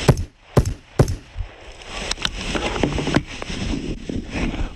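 Rifle gunshots from an outdoor shoot, heard through electronic ear protection, come as a few sharp cracks that are clipped and damped, followed by a steady background hiss with fainter pops.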